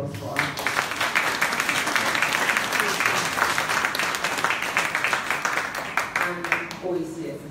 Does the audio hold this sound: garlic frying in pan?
no